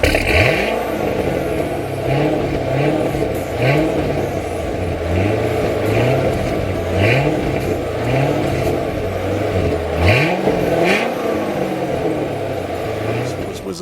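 A Chevrolet Corvette C7 with a mild-to-wild switchable exhaust revs repeatedly, each loud, close blip rising and falling in a rhythmic series over a steady idle.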